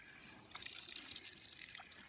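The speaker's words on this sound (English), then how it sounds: "Now this is a tap stand for the community." Water running and splashing from a community tap stand on a farm, faint, a quiet background that turns into a steady trickling spatter partway through, with no voices.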